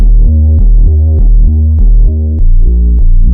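Reese bass and a deep sub kick play together in a funk beat, the low bass notes sliding between pitches while the kick thumps under them in a steady loud groove, with no voices.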